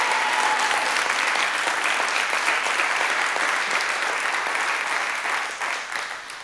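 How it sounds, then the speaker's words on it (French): Dense, steady audience applause fills a French television game show studio, loud and continuous throughout, tapering slightly near the end with no talk over it. "Je voudrais qu'on applaudisse encore"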